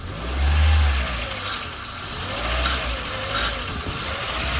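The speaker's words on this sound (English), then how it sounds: "Rev the car a little bit." A car engine is revved lightly in short bursts, its low rumble rising and falling over a steady idle, close by with no talking.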